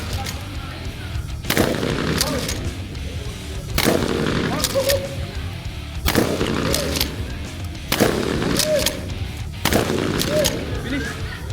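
Guns fire at a shooting range in the Philippines, with loud close shots or short bursts coming every couple of seconds, each ringing out over a noisy outdoor background with occasional voices.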